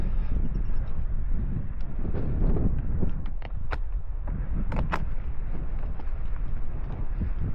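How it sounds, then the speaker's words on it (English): Strong wind buffets a helmet-mounted camera while riding fast down a coastal field, a loud, steady roar filling the whole stretch with occasional sharper clicks and knocks over it. "It's going to be windy going down here"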